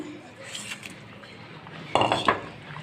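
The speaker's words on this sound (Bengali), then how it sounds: "এখন আমি একে একে সবগুলো মাছ দিয়ে দেবো" Pieces of rui fish go into a pot of simmering curry with kakrol and potato, making a brief clatter of metal and utensil clinks and a soft splash near the end.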